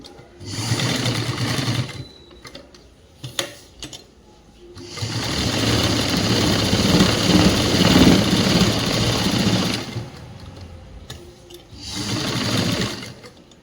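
A sewing machine runs stitches along a government school uniform blouse in three bursts, a short one, a long steady run and a final short one. Between bursts there are pauses with light handling noises.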